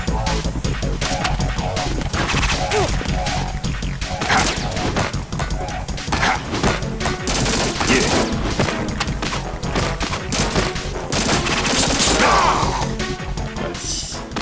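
Dense, continuous gunfire and crashing blasts from the Metal Gear Solid 2 video game fill the whole stretch at high loudness, over a thick background mix with little pause.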